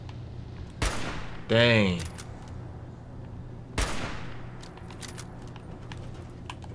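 Two sharp, loud sniper rifle shots in Fallout 4, a few seconds apart, each with a short echoing tail, over a quiet low hum, with a brief voiced exclamation between them.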